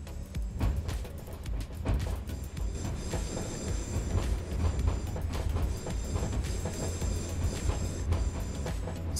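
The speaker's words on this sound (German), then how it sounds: "Ganz schön am Rumhüpfen, unsere kleine Lok da." A small locomotive runs on rails in the Simrail train simulator, with a steady loud rumble of wheels over the track and repeated clicking joint impacts, bumping along continuously.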